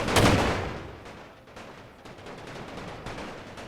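Gunfire in the World War I strategy game The Great War, where a heavy blast opens and then a steady crackle of distant rifle volleys and shots rolls on at moderate loudness, with no talking.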